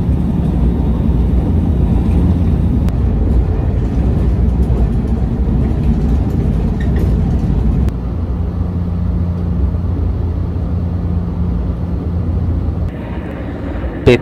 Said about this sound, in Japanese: 振り子式特急ソニックはカーブもあまり減速せずにどんどんどんどん走っていき